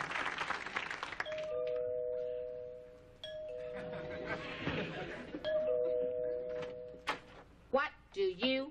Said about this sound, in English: why does it take three rings of the doorbell for you to answer?